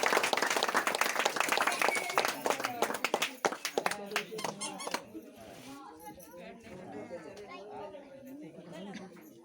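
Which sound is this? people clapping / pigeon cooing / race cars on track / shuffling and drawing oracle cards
people clapping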